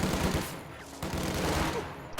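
Automatic light machine gun fire from upgraded infantry in a Company of Heroes match, dense overlapping bursts of gunfire crackling continuously at steady loudness with battle noise, no voices.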